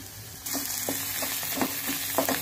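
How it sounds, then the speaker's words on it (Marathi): Coriander, garlic and ginger paste sizzling and frying in a pan, a steady loud hiss with soft stirring scrapes, no talk. "आपलं कोथिंबीर लसूण अद्रकची पेस्ट जी आहे ती छान परतले गेलेली आहे"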